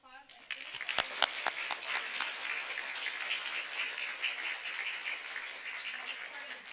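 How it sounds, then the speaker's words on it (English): At an elementary spelling bee, the audience gives a round of applause for eliminated spellers, a few sharp early claps swelling into sustained, moderately loud clapping throughout. "Let's give everyone a big round of applause."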